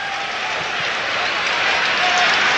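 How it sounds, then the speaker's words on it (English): A large baseball crowd at a Houston Astros home game in 1986 applauds and cheers as a broad, continuous roar. It is loud and fairly close and swells slightly toward the end. "A super crowd on this Thursday afternoon in Houston."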